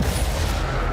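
Crucio curse spell cast in the video game Hogwarts Legacy: a dense, loud one-second burst of noisy magical effect that sustains without a break.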